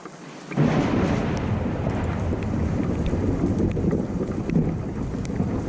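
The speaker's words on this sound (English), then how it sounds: "We've had lots of thunderstorms." A thunderstorm in a summer garden, a heavy rumbling roar that swells in abruptly after a quiet start and stays loud and continuous, mixed with wind buffeting the microphone.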